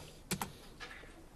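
A couple of quick, faint clicks on a computer keyboard during a statistics lecture, followed by a softer keystroke, with no voices.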